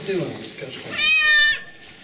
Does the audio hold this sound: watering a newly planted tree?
no